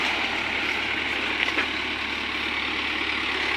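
A tractor engine labors steadily while pulling a stuck Mahindra Bolero free, a continuous low drone with a faint rattle, close and unbroken.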